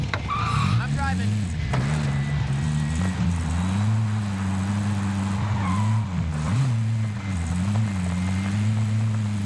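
Vehicle driving in the video game Warzone, with a continuous droning engine that rises and falls in pitch and occasional tire squeals, while radio-style voices talk over it.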